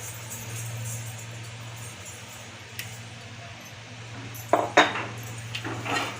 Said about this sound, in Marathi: ह्यातलं हे थोडंसं आपण ओबडधोबड कुटून घेऊया खलबत्त्यात.